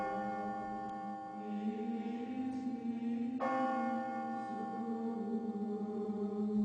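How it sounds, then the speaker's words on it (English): Church bells ring out in a sustained, resonant peal with layered overtones, a fresh strike landing partway through as the tolling continues steadily without voices. "The bells rang out."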